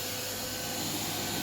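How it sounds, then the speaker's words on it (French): A borrowed vacuum cleaner runs inside a van, giving a steady, loud motor whine and rushing airflow that holds even for the whole moment with no pauses. "Ici on m'a prêté son aspirateur, donc je vais pouvoir hop, aspirer un petit peu."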